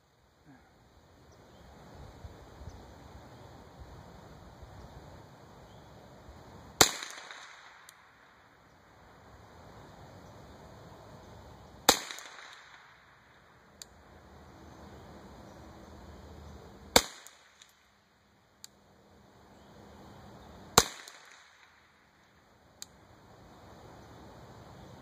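A Mossberg Plinkster .22 rifle fires Winchester ammunition outdoors: four sharp, loud shots spaced several seconds apart, each with a short echo, over faint wind and quiet background speech.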